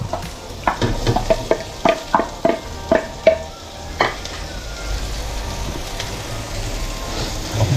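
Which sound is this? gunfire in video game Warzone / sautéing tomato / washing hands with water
sautéing tomato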